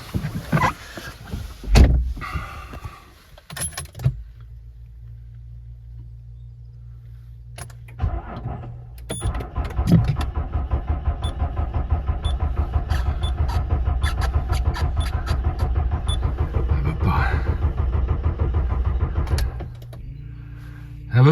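A Citroën C6 cranks over repeatedly without catching, a steady rhythmic starter churn lasting many seconds after a brief key rattle and a pause, close and fairly loud inside the car.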